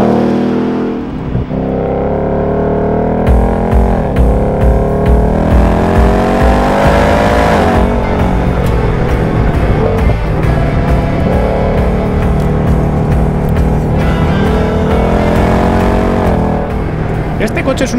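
A Ford Mustang Mach 1 V8 engine roars close by, revving hard with rising pitch sweeps as it accelerates, loud and sustained throughout.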